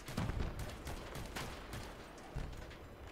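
Vehicle turret guns firing in the Crossout combat game: dense, continuous bursts of rapid gunfire with a few heavier low thumps, loud and steady across the whole stretch.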